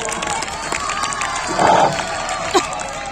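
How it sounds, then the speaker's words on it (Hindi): Audience at a humorous Urdu mushaira, a diamond jubilee poetry gathering, responds to a poet's welcome with a steady crowd murmur, a brief louder swell of cheering and clapping, and one sharp shout near the end. "तो लीजिए तालियों से इस्तकबाल करके इजाजत दीजिए शरबती साहिबों को।"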